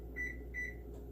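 Two short electronic beeps from an oven control panel as it is set to preheat to 325 degrees, followed by a fainter chirp, heard close over a low steady hum.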